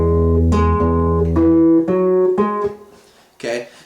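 An acoustic guitar plays a measure of a song, with a few plucked notes ringing close and clear before fading, then a brief scrape of noise near the end.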